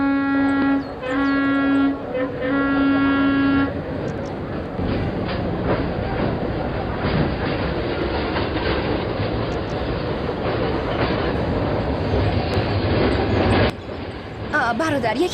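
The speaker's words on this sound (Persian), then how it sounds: "قطار شماره 22 به مقصد کرچی در ایستگاه 2 آماده حرکت است." A train stands at a station platform, ready to leave for Karachi. A horn tone sounds at the start, then a long, loud rumble and clatter of railcars continues while voices talk in the background.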